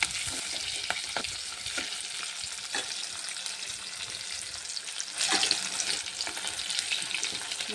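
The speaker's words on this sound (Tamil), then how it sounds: "நான் ஒரு சின்ன சைஸ் வெங்காயம், கொஞ்சமாக கருவேப்பிலை, ஒரு 2 காஞ்ச மிளகாய் போட்டு நல்லா வதக்கிக்கலாங்க." Mustard seeds, small onions, curry leaves and two dried chillies sautéing in a pan for a South Indian vegetarian meal, with a steady crackling sizzle and occasional stirring scrapes throughout, briefly louder near the end, with no talk.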